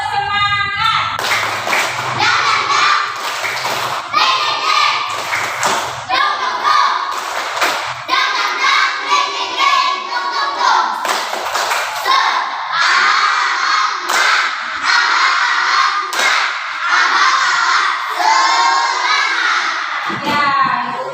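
Schoolchildren in a classroom perform the 'tepuk semangat' clapping chant, bursts of rhythmic clapping patterns mixed with children's chanting voices, loud and close, with short pauses between sections.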